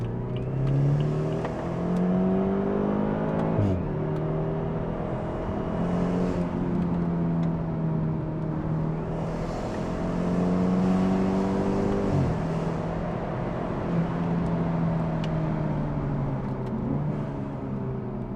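BMW 328i with a valved axleback exhaust and resonator delete pulls hard through repeated gear changes, its engine note climbing, dropping and climbing again over a long stretch of driving, steady and fairly close.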